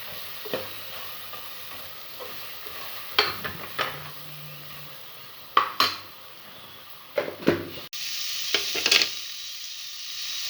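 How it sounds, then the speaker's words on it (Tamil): Biryani masala is sautéed in a pan for paneer biryani, with a faint sizzle under repeated sharp clinks and scrapes of a utensil against the pan, and no voices. "இந்த மசாலா பச்சை வாடை போகிற அளவுக்கு அது நல்லா கொஞ்சம் நேரம் வதக்கி விடலாம்"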